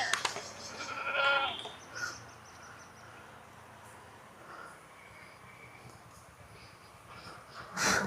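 Goats bleat outdoors on a farm, where a black goat is tied up nearby; a few short, fairly faint calls come at scattered moments over a steady rustling background, the loudest near the end.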